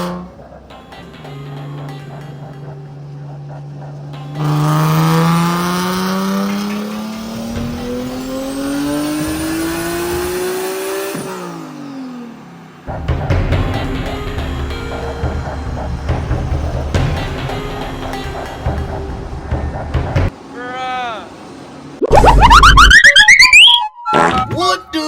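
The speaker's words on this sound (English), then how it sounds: "It's just going to be the 600 wheel horsepower run." A turbocharged Nissan 370Z on a dyno at 14 psi of boost for a 600 wheel horsepower run revs loud and close, its engine note climbing steadily to a peak, then cutting off and roaring again in later bursts.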